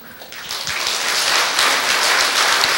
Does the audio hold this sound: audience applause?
yes